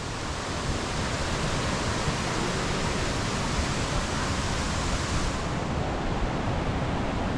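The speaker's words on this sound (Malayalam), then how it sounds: "ആ വെള്ളം സ്പ്രേ ആകുന്നതിൻ്റെ" Tiger Falls waterfall throws spraying water with a loud, continuous broadband roar, close and unbroken throughout, with no talking.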